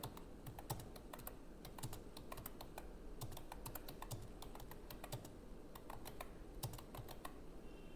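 Rapid typing on a computer keyboard during a beginner computer lesson, with close, steady key clicks, bursts of quick strokes and a few heavier thumps like the space bar, continuing throughout with no talk over it.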